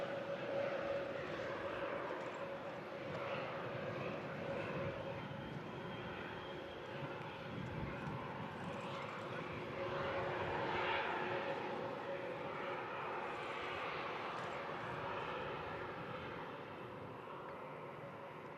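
Airbus A321neo airliner arriving at Manchester Airport, a steady broad engine roar heard at a distance throughout, with faint talk layered over it.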